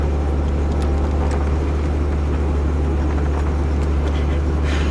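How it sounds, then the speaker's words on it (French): A 1989 Jaguar XJS V12 driving off-road on a rough track, with a loud, constant low engine drone and rumble, bumps and rattles breaking through over five seconds, and no voices. "On fait du 4x4."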